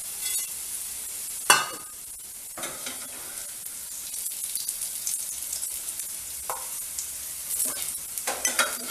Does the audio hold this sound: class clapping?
no